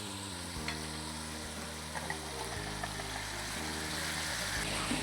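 Aloo kofta gravy made with a ground tomato, onion and garlic paste sizzles and fries in a pan while it is stirred, giving a steady, close hiss of frying with soft scraping throughout.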